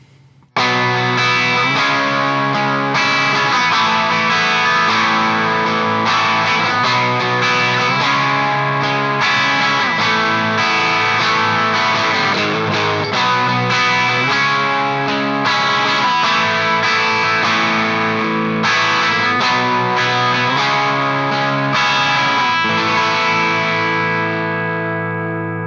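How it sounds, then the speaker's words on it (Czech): Electric guitar run through a LeeHooker Color Trip vintage overdrive pedal, giving a loud, dense, dynamic distorted tone that plays steadily throughout with sustained chords and notes, no talking. "Slyšeli jste, že pomocí Color Trip se ten zvuk tak krásně dokreslí, má to krásný dynamický zkreslení"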